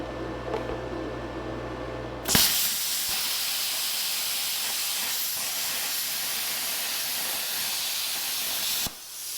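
Plasma cutter slicing quarter-inch steel on compressed air, starting abruptly after a quiet moment into a loud, steady broadband hiss that holds for several seconds before cutting off sharply.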